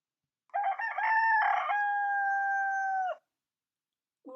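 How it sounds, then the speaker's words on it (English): A rooster gives a single loud, close crow, a stuttering start followed by a long held call that cuts off cleanly, with a brief burst of the next sound at the end. "Rooster"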